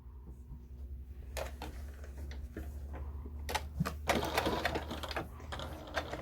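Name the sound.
sewing machine topstitching terry cloth towel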